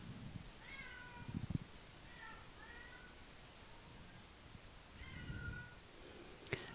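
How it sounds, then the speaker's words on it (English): A young black cat, about six months old, meows in three short, soft bursts spread across the stretch, with faint low handling bumps in between. "You all black cat lovers, here's Onyx, and he is a beauty."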